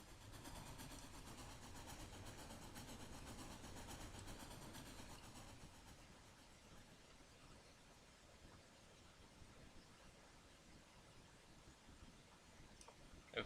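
A train driven in a video game rolls along with a continuous low rumble and faint rhythmic clatter, fading a little over time before a soft click near the end.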